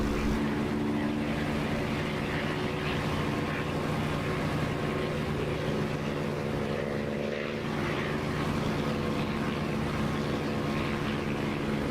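A propeller aircraft engine in the DCS flight simulator game drones loud and steady as the throttle is pushed up, a continuous engine roar with a deep tonal hum that holds for the whole stretch.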